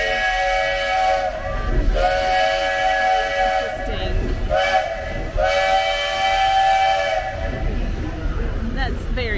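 A steam train sounds a long, loud whistle in two blasts separated by a pause, with hissing steam and low engine rumble underneath.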